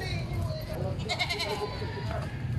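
Goats bleat intermittently at a livestock market in San Carlos City, Pangasinan, Philippines, several calls rising over steady crowd murmur and low rumble, with people talking throughout.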